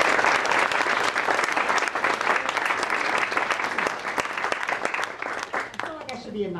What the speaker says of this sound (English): Let's give Alex a round of applause for his time.